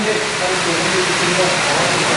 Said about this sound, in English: And rain again,